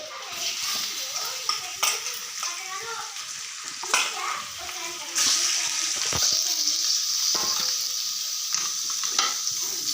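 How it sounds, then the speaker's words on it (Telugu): Washed chicken pieces are added to a pan of browned onions for garlic-chili chicken fry, bringing a loud, steady sizzle that rises midway, with scraping and clatter from stirring throughout. "ఇంకా ఆనియన్స్ ఎగ్ అయ్యాక ఇప్పుడు మనం కడిగి పెట్టుకున్న చికెన్ వేసుకోవాలి"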